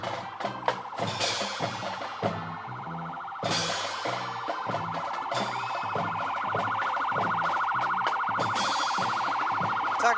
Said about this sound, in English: Oh, we got an ambulance trying to get by.